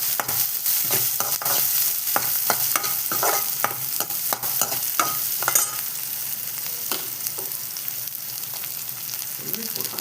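Garlic, curry leaves and green chili frying for carrot rice: a continuous bright sizzle in hot oil with intermittent stirring scrapes, close and loud throughout.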